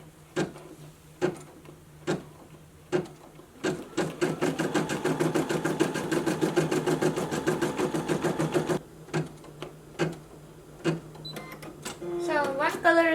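A Brother SE600 embroidery machine stitches in a fast, steady mechanical rhythm, preceded and followed by separate clicking needle strokes, close and clear with a voice talking over parts.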